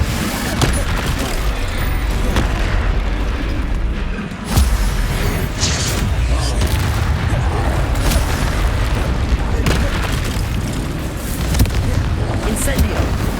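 Spell blasts from the Confringo and Incendio fire spells in the Hogwarts Legacy video game, a dense, continuous barrage of booming explosions and crackling bursts lasting throughout, with a voice shouting over the din.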